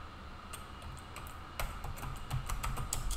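Computer keyboard being typed on while writing C code, scattered clicking keystrokes that grow busier and denser in the second half, close with a low background hum.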